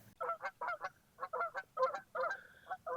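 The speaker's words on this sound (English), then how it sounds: "There goes the geese." Several geese honk repeatedly in quick, overlapping bursts, faint and somewhat distant.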